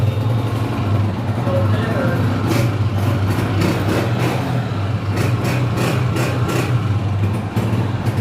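A 2020 Honda 125 motorcycle engine running at idle, a loud, close, steady low thrum with faint rhythmic pulses, while someone talks over it.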